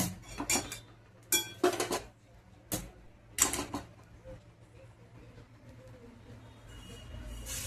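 Roasted spices and ingredients for a traditional village-style pickle are tipped out of a pan, giving a few scraping, clattering bursts close by, then quieter handling.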